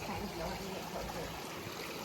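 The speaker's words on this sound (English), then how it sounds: "Water feature here." A backyard pool water feature runs with a steady, close rush of falling water that holds at an even level for the whole short stretch.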